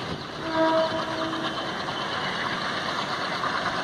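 A WDM3A diesel locomotive hauls an LHB-coached Suvidha express past at good speed, a loud steady rumble of wheels and engine with a brief horn near the start, heard alone without talk.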